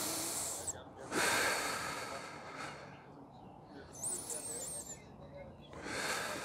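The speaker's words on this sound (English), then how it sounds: "Stay here, focus on breathing." Heavy breaths are drawn in and pushed out while someone holds a pigeon pose hip stretch, slow loud exhales in a steady rhythm close to the mic, with faint background hiss between them.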